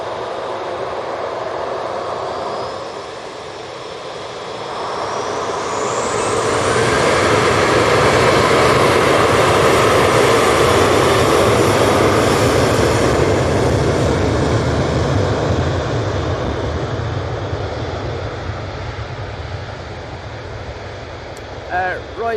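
An Airbus A321neo jet swells from a faint approach into a loud, broad engine roar peaking mid-pass, then slowly fades at Manchester Airport, with a brief rising whine early on.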